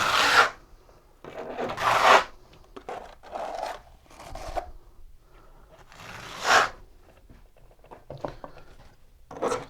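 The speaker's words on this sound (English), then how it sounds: "Now we're going to take our notched trowel. We're going to get some mud on it" Notched trowel spreading tile mortar for a kitchen backsplash, intermittent wet scraping swipes of varying length with short pauses between, close and clear.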